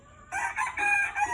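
Gamecock breeder rooster in a backyard crowing once, a close, loud cock-a-doodle-doo with several pulsing segments.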